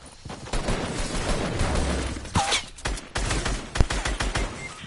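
Gunfire in a Fortnite match, with rapid bursts of shots and sharp cracks that keep going at close range amid other game noise.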